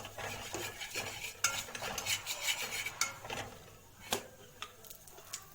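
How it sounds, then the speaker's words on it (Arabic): A spoon scrapes and stirs cumin, garlic and coriander through koshari ingredients in a pot, giving irregular close rubbing strokes with a few sharper clinks, fairly quiet and without voices. "وشويه كمون، نقلبهم كويس مع بعض"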